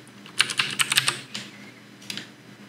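Someone enters a PIN on a computer keyboard in the Sunshine game-streaming app settings, a quick run of about six close, crisp key clicks followed by a pause and two more taps.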